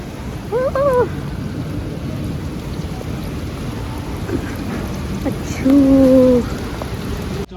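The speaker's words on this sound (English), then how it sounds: "It started raining heavily." Heavy rain pours in a constant loud hiss for the whole stretch, while two short tonal horn-like honks cut through on top of it.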